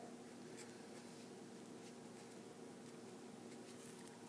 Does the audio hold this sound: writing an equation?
yes